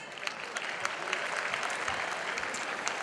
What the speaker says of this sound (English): Please continue with the claps.